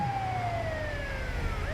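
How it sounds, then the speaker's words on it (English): A wailing ambulance siren in the video game GTA V, its long tone sliding steadily downward and then rising again, heard alone and at moderate distance. "that was the type of ambulance sound I'd make"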